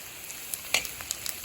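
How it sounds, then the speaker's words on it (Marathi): Chillies and onion frying in hot oil in an iron pan for a dried bombil chutney: a steady soft sizzle with faint crackles and pops, close and quiet, no talk. "त्याच्यामध्ये आपण टाकूयात मिरच्या आणि कांदा तर हे पहा चांगलं परतून घ्यायचं आहे"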